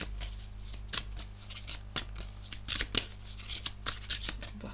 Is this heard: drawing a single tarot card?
yes